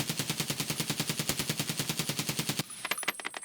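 A SCAR rifle in Escape from Tarkov empties a 30-round magazine in one sustained full-auto burst, evenly spaced loud shots hammering for about two and a half seconds, then stopping, followed by a few mechanical clicks and rattles.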